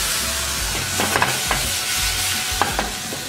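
Beef sizzles in a hot pan for lomo saltado, with a steady close hiss and a few scraping stirs and clinks of a utensil.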